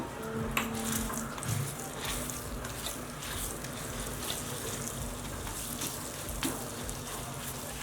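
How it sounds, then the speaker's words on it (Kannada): Crushed garlic and chili powder paste sizzles in a hot pan, a steady close crackling hiss with small pops and stirring scrapes throughout. "ಕುಟ್ಕೊಂಡಿರೋ ಬೆಳ್ಳುಳ್ಳಿ ಖಾರದ ಪುಡಿದು ಹಾಕ್ಕೊಳ್ಳೋಣ ಪೇಸ್ಟು"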